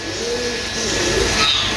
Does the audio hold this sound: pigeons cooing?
yes